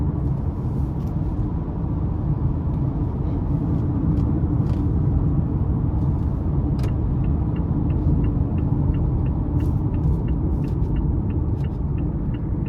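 A 2017 Mazda CX-5 Touring with the 2.5 engine, 102,000 miles, heard from inside during downshifts: a steady low rumble of engine and road noise, with faint ticking clicks toward the end.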